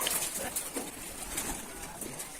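Rajshahi Giribaj pigeons cooing softly at a pigeon farm, low murmuring coos repeating over a faint airy background with occasional wing rustles.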